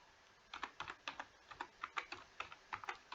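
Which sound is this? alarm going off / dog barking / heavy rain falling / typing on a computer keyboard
typing on a computer keyboard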